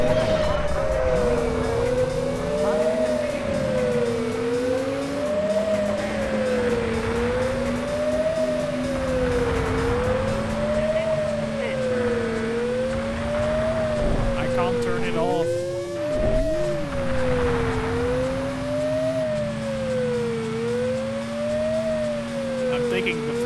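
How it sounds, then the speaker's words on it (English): A police car siren in the video game Driver 2 wails continuously in a fast, regular up-and-down cycle over a loud revving car engine whose pitch rises and drops with gear changes. "Interestingly enough, I cannot turn off the siren, so enjoy the Ubers."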